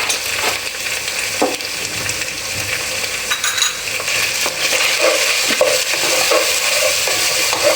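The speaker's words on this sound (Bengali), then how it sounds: "এটা খুব ভালোভাবে নেড়েছে মিশিয়ে নেব।" Coriander powder is stirred into biryani masala frying in a pan. A loud, steady sizzle runs throughout, with repeated scraping and clacking strokes of the spoon close by. No speech.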